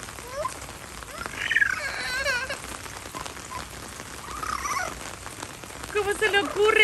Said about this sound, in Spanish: Disfrutando de esta rica lluvia.